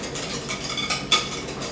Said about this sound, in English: Give it a good whisk up.